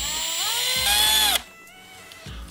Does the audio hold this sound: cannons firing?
no